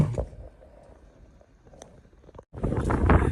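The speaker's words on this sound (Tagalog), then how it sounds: "Grabe yung hangin." Quiet outdoor ambience with light rumbles in Canada, then strong cold wind buffets the microphone in a loud, low roar for the last second.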